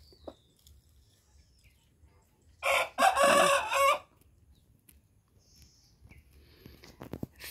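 A village rooster crows once, loud and fairly close, in a single drawn-out call over faint outdoor background noise, with a few soft clucks and bird sounds around it.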